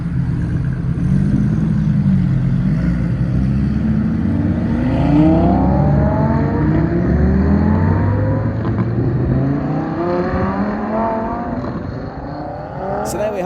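Lamborghini Huracán STO pulling away with a Huracán Tecnica, loud engine note rising and falling through gear changes as it drives off and fades, with voices faintly under the engine.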